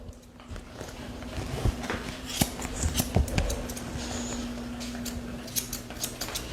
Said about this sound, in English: I need those thinning scissors right here